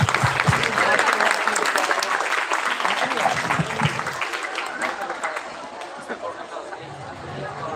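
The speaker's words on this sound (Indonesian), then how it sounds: "Mari kita tepuk tangan dengan meriah." Loud, dense applause from a large crowd at a school event, with chatter and cheering mixed in, fading slightly toward the end.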